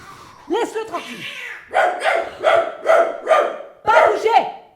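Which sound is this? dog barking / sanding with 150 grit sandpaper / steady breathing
dog barking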